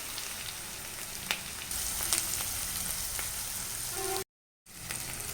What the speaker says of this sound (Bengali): পেঁয়াজগুলো দিয়ে ভাজা ভাজা হয়ে গেছে। এখন আদা বাটা দিয়ে দিলাম, রসুনও দিয়ে দিলাম।